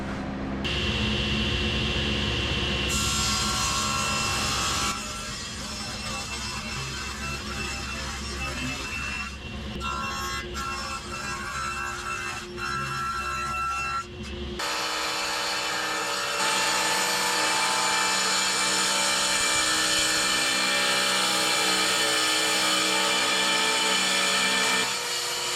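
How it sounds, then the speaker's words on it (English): A power sander works the edge of an epoxy and wood tabletop, giving a steady, loud whir that changes tone in sections as the tool is moved or restarted. No one speaks. "I'm going to continue to run the top side through the sander"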